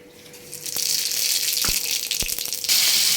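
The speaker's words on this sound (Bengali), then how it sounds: "এই যে আমি এখানে রাঁধুনি ফোড়ন দেবো।" Radhuni seeds dropped into hot oil for tempering while cooking Bengali shukto, giving a steady bright sizzle that swells and hisses continuously, with a few soft clicks and taps of utensils, close and fairly loud, no talking.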